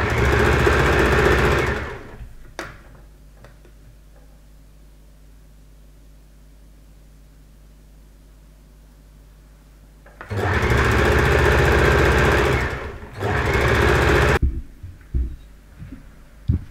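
A sewing machine stitches a sleeve seam on a kimono robe in loud, steady whirring runs: one short burst, a long quiet pause, then two more runs with a brief break between them.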